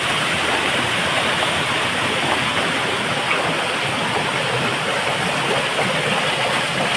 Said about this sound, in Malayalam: ഇതാ തൊട്ടപ്പുറയിൽ വലിയൊരു ഉറവച്ചാൽ രൂപപ്പെട്ടിരിക്കുന്നത് അതുകൊണ്ട് അതിൽ നിന്ന് ഇപ്പോഴും കല്ലും മണ്ണും ഒക്കെ വന്നുകൊണ്ടിരിക്കുകയാണ്